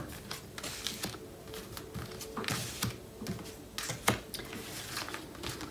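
Tarot-style cards being laid down on a table one after another, giving soft quiet taps and slides amid faint handling noises, no talk.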